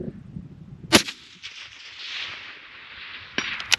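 Two sharp rifle cracks from a long-range steel gong shoot, one near one second and another later, each followed by a faint ringing tail in a quiet outdoor setting.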